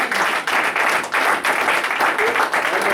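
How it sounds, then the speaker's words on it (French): A church congregation applauds the Lord with loud, dense, continuous clapping that swells in rhythmic waves, with voices mixed in beneath it. "Tu peux acclamer le Seigneur"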